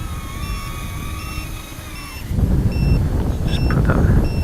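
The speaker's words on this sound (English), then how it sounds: "It's a low voltage buzzer." An SPCMaker 95GF brushless micro drone's low-voltage buzzer chirps in short, high, evenly spaced beeps, first over a steady hum and then over a louder burst of whooshing motor and propeller noise.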